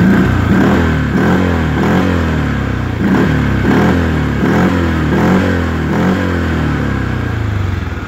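A 2018 Arctic Cat Alterra 700 ATV engine revs loudly up close in repeated rising bursts about once a second, with a deep, throaty drone throughout.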